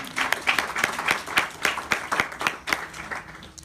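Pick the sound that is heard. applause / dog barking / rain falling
applause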